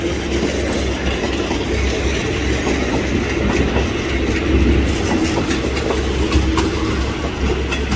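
An Alsthom 4222 diesel locomotive hauls a long, busy commuter train past, a steady loud rumble with rhythmic clickety-clack of wheels on rail joints and faint wheel squeal, continuous throughout with no talk.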